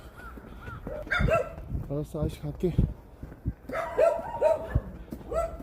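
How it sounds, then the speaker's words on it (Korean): Several dogs bark and yip in a countryside village, the barks in bursts amid the chatter of people talking nearby. "시골이라 그런지 강아지들이 참 많네요"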